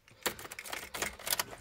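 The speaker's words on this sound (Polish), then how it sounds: "Wkładamy kluczyk" A car key slid into a vehicle ignition, giving a short run of close, crisp metallic clicks and jangles.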